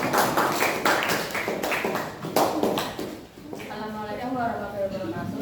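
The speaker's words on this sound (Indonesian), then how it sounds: "Yuk, beri tepuk tangan untuk kelompok 1" Classroom applause for a student group during a teaching-practice session: a loose patter of hand claps, brisk at first and thinning out, before a voice begins speaking.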